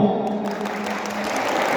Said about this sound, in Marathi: त्यांच्यासाठी तुम्हीच टाळ्या वाजवा